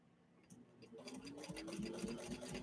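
A 1934 Singer 15-91 sewing machine with a leather needle stitching cotton fabric, starting slowly and building to a steady, close mechanical whirr.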